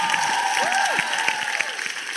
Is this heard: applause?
yes